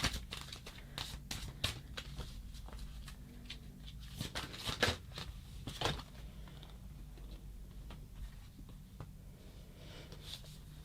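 Tarot cards handled during a reading, with soft repeated rustles, flicks and papery shuffling taps scattered across the stretch, close and fairly quiet over a low steady background hum.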